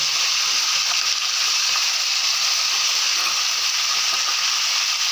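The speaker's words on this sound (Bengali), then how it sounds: "আজকে এই তেলেতে ভালো করে চিকেনগুলো ভেজে নেবো।" Chicken pieces fry in hot oil in a pan, giving a steady, loud, unbroken sizzle and hiss with no voices.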